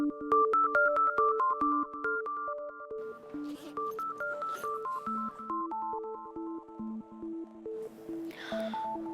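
A mobile phone rings with an incoming call, playing a clear melodic ringtone of stepped electronic notes that repeats steadily for several seconds at moderate loudness, a brief rustle near the end.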